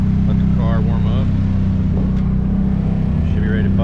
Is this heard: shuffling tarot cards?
no